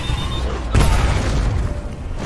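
A bomb blast in a heist film, where a SWAT team trying to rescue a woman is caught by the explosion: one sudden loud boom that rolls into a lingering rumble over background noise.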